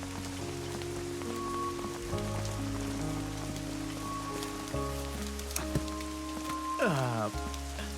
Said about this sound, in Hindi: बारिश में भीगे काफी वक्त हो गया।